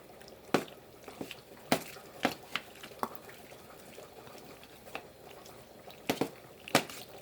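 Faint, wet stirring of cooking food with scattered soft clicks and squishy knocks of a utensil against the pot, irregular and quiet throughout.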